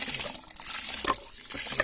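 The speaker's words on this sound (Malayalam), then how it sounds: "ഇനി നമുക്ക് വെള്ളത്തിലോട്ട് നമ്മൾ കഴുകിയിരിക്കുന്ന അരി" Washed ration rice is tipped into a pot of hot water for a veg biryani, giving a close, continuous wet splashing and sloshing with a few sharper splashes, and no voices.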